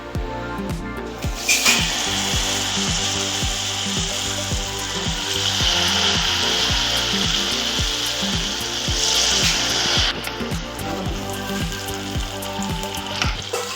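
Mysore bonda fritters bubble and crackle in hot oil, a dense steady sizzle with regular rhythmic knocks and scrapes running through it, close and loud.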